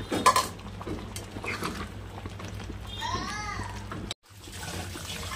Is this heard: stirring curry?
yes